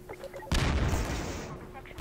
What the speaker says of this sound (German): Alter, was explodiert da alles?